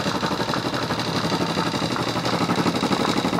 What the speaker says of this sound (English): The motor kind of wobbles around because it's rubber mounted.